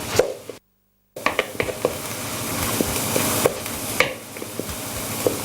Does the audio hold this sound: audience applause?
no